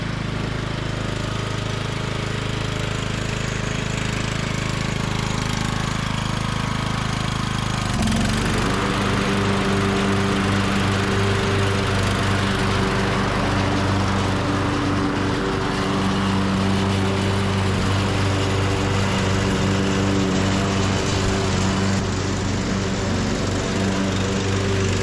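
A 1998 MTD lawn tractor running loud and close, a steady engine drone that shifts in pitch after several seconds as the mowing deck engages, then holds an even, constant hum through the rest.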